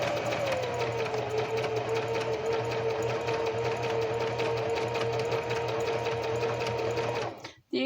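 A sewing machine stitches fabric in one steady, close, continuous whirring run that cuts out abruptly just before the end.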